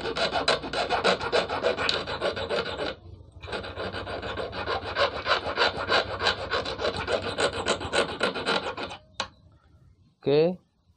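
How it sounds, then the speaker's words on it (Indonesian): A metal file rasps against a small fishing hook in fast, steady back-and-forth strokes, loud and close, with a brief pause midway, then stops as a voice speaks briefly at the end. "kita langsung lanjut menggunakan kikir yang lebih tajam"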